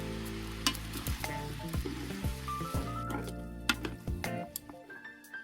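Japchae ingredients stir-fried in a pan over medium-low heat, steady sizzling with utensil knocks and scraping, plus a low tonal hum underneath, close and moderately loud.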